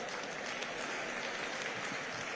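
Steady applause from a large audience fills the hall at a women's conference for the First Lady of Lagos State, with a continuous dense patter of clapping and no talking.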